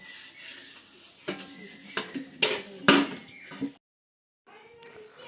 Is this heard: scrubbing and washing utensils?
yes